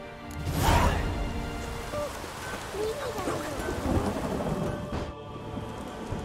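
Heavy rain pours steadily in The Witcher 3 video game while a deep thunder rumble rolls in near the start and slowly fades, with the downpour continuing loud and even throughout.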